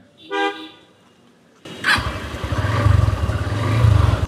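A motorcycle starts in heavy rain: a brief tonal toot comes first, then at about a second and a half the engine catches loudly and settles into a steady, pulsing idle under a broad wash of rain.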